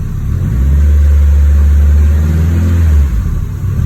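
A high-spec Honda K-series car engine revs hard and close, its deep roar swelling, holding for a couple of seconds, then dropping back to idle.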